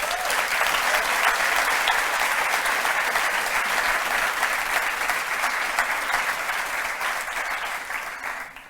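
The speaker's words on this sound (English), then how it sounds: "Let's give them a round of applause." Audience applause at a company launch event, a dense, steady roar of clapping that holds for several seconds before starting to taper, loud and with no talking over it.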